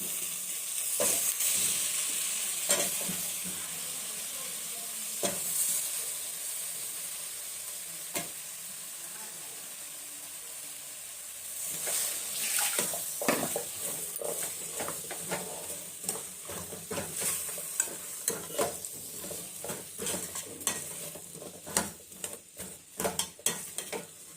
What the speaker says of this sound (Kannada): ಈಗ ಮೂಲಂಗಿ ಹಾಕ್ತಾಯಿದ್ದೀನಿ